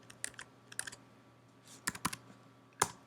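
Computer keyboard keys being typed while writing Swift code for an iOS app, quiet scattered clicks in a few short bursts with pauses between them, close by and alone.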